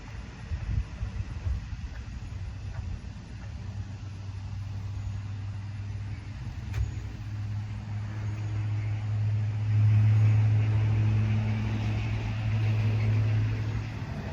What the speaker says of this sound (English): Big old truck going by.